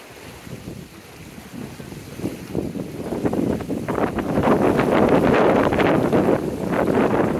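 Strong wind buffets the microphone on a river during kayak slalom paddling, building from gusty rumbling to a loud, steady roar, with splashing water and boat noise underneath.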